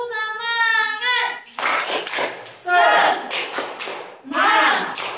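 A group, likely children, does a rhythmic spirit clap during a live online church kids' program, with bursts of clapping and shouts after a sung or spoken lead-in.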